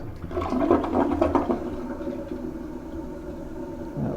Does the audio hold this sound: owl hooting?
no